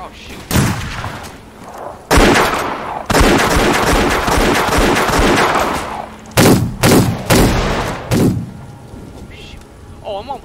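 Gunfire in Roblox Wild West while shooting skeletons: loud, dense bursts of shots in long volleys with short gaps, then several sharp separate blasts toward the end.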